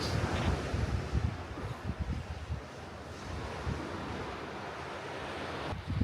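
Waves wash onto the beach at Sandbanks with a continuous rushing surf, mixed with gusty wind buffeting the microphone, loud and steady with no voices.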